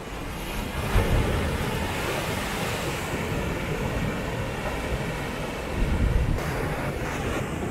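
Steady ocean waves and gusty wind beside a seaside shrine gate at Kashima Shrine, a continuous loud wash of surf with wind buffeting the microphone, swelling briefly near the start and again toward the end, no voices.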